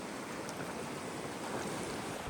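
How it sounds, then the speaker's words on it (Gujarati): Sea waves wash close by on a shore used for shrimp fishing, a continuous rushing, hissing surge of water with a low churning undertone and no voices. "એટલા બધા મોજા છે કે એની વાત ન પૂછો"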